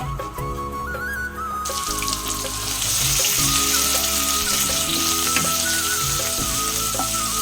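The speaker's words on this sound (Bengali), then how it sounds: "এবারে পেঁয়াজ কুচোগুলো দিয়ে দেবো।" Chopped onions drop into hot oil tempered with cumin, bay leaf and dried chilli for an egg curry, bursting into a loud, steady sizzle that holds close and continuous, with no talk.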